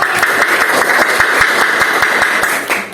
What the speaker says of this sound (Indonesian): kita kasih aplaus ya buat kelompok 2